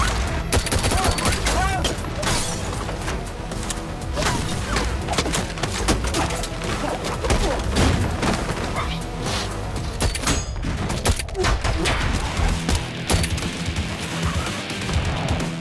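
Gunfire in a film action scene, with dense bursts of rapid shots and crashing impacts that continue loudly and almost without pause from start to finish.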